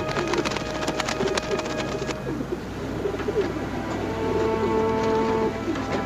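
Pigeons coo softly and repeatedly nearby, mixed with fluttering and scratchy clicks of feet and wings, while a low background rumble continues throughout.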